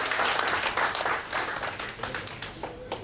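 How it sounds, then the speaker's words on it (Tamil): An audience at a Rotary district gathering in India applauds to welcome a speaker, dense steady clapping filling the hall at moderate level without a break. "உங்களின் அரங்கு நிறைந்த கரகோஷத்தில்"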